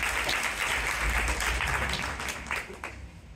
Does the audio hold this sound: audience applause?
yes